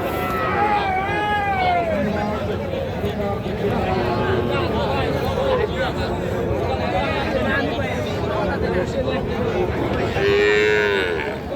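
A heifer calf moos repeatedly in drawn-out calls over a constant crowd hubbub at a cattle market, with other cattle lowing nearby.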